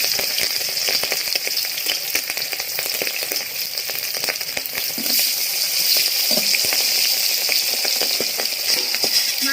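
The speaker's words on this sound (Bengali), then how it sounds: "তেল গরম হয়ে গেছে। এবার আমি মাছটা দিয়ে দেব।" Hilsa fish fries in hot mustard oil, giving a dense, continuous crackling sizzle with scattered sharp pops, steady and close throughout with no voices.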